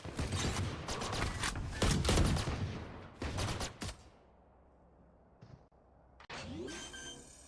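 Rapid gunfire from the tactical shooter game Valorant, a dense burst of loud shots and clatter followed by a pause, then a short whoosh and a few scattered game sounds.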